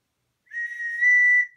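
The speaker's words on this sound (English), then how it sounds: "Whistle." A survival whistle from a scout box gives one sharp, piercing blast that starts after a short silence and swells louder before cutting off.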